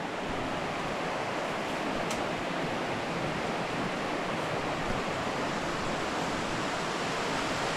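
A waterfall forced through rocks in a valley, rushing water as a constant dense roar that holds steady for several seconds without a break.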